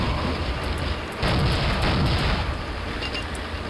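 Loud booming magnum gunshots in Soldier of Fortune, a big blast midway followed by rumbling reverberation and a few sharp clicks.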